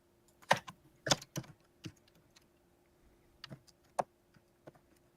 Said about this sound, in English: I'm just typing mine up here.